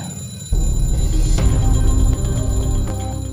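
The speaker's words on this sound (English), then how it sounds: "The alarm is ringing." A loud mechanical alarm bell bursts into continuous rapid ringing after a brief quiet start, clattering on steadily without pause.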